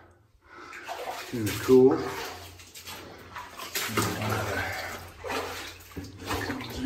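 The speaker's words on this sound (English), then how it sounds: "A couple here and there where the water's coming down." Water drips and trickles from the ceiling of an abandoned mine tunnel, with scattered splashes echoing in the hollow space while someone speaks briefly over it.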